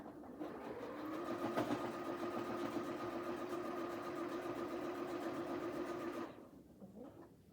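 A sewing machine back-stitching a pillow cover runs in one steady, close buzzing burst of rapid needle strokes for several seconds, then stops abruptly.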